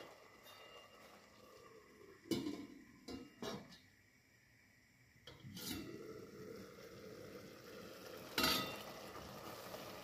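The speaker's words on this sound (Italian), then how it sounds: "copriamo la nostra pentola con il coperchio" A metal lid set onto a cooking pot of kale and lentil soup over medium heat, a few clinking knocks and scrapes of metal on metal, spaced out against a quiet kitchen background.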